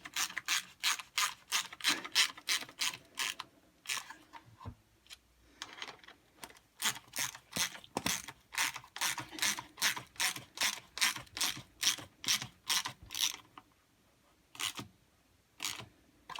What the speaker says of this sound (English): I'm going to go up tight with them with the socket rather than the impact